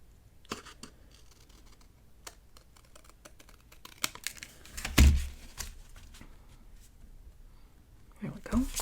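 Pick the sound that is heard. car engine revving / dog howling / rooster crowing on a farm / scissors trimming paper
scissors trimming paper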